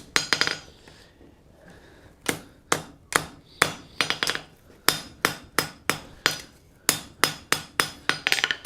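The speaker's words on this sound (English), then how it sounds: "I'm going to have to go over here to my tail of my anvil. Drive that back semi-square." Hammer forging steel on the tail of an anvil: a steady run of sharp, ringing metallic blows, close and loud, in evenly spaced bursts with a short pause early on.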